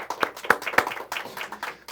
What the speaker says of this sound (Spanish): Así que un aplauso para el Eterno.